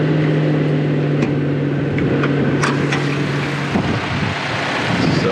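2024 Toyota Land Cruiser with an inline 4-cylinder turbocharged engine running under the open hood, a steady hum with a sustained tonal drone, buffeted by wind gusts and occasional light clicks.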